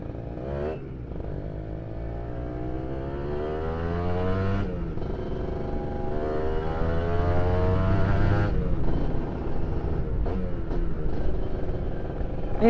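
A 2015 Kawasaki Ninja R Special Edition motorcycle engine revs and drones nearby on a test ride, rising and falling in pitch as it accelerates, with gear-change dips and a steady rumble.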